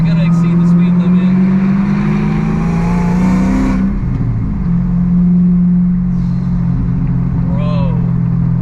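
A Dodge Charger Hellcat with a swapped 6-speed manual gearbox accelerates from inside the cabin, a loud steady engine drone with rising gear tones that drops off near the middle as it shifts, then settles into a lower hum.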